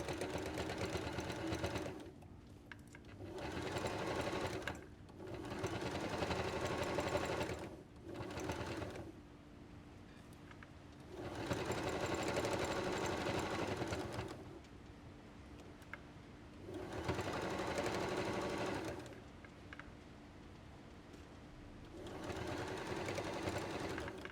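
A sewing machine stitches a baby hat in four or five sustained runs of close, steady whirring, each lasting a few seconds and separated by short pauses.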